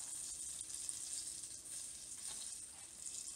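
Wild trout fillets frying in a pan, giving a steady, fine sizzle that runs continuously at close range with no talking over it.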